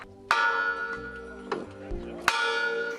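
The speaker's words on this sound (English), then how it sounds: "And the bell tolled, marking the moment when Dr. King delivered his historic speech." A church bell tolls at a commemoration of the March on Washington's 50th anniversary, two strong ringing strikes about two seconds apart with long humming decay, and faint voices beneath.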